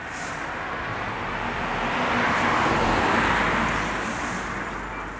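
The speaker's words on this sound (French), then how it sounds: "Pas mal de voitures ce soir, c'est normal, c'est vendredi soir." Cars passing on a city street on a Friday night outside a warehouse building, a steady broadband rush swelling and fading as vehicles go by at moderate distance, no voices.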